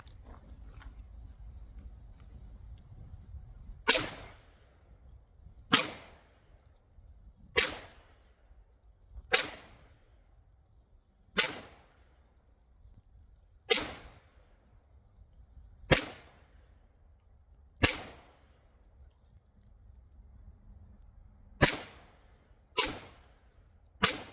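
A PSA Rock 5.7 pistol slow-fires at an outdoor range, about a dozen sharp, loud shots spaced roughly two seconds apart, each followed by a short echoing decay, with no talking between them.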